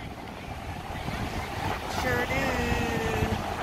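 Steady wind roars across an open beach shore at Daytona Beach, with a brief spoken reply and a faint tonal call rising over the rush.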